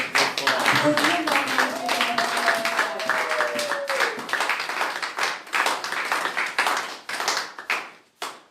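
Church congregation clapping and applauding the Lord during a bilingual French-German service, dense continuous hand claps with a sustained voice line at first, the applause thinning into scattered claps toward the end.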